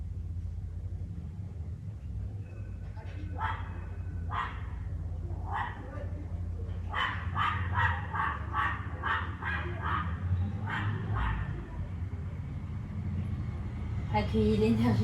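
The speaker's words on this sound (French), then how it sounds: "Accueillez l'énergie de ce chien errant." A stray dog barks in a run of about a dozen sharp barks, sparse at first and then quicker, at a moderate distance over a low background hum.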